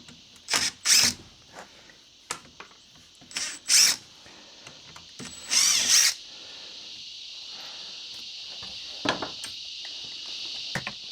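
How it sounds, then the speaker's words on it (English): A power drill backs screws out of the hinges on a century-old Queenslander verandah under renovation, giving several short whirring bursts separated by pauses, with a faint steady background hum. "Let's take these hinges off."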